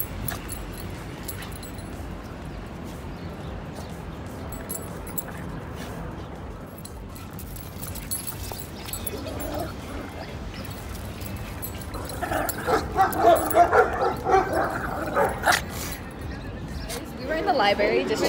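Dogs yip and bark in short bursts at a busy dog park, mixed with people chatting in the background, growing louder toward the end.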